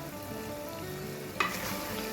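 Cashews dropped into mutton frying in oil, giving a steady sizzle with a brief clatter and stir as the nuts go in, close and moderately loud.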